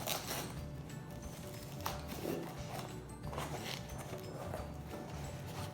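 A knife saws through the cardboard side of a shipping box during an unboxing, giving a quiet, steady scraping and rasping that runs for several seconds with small rhythmic scratches.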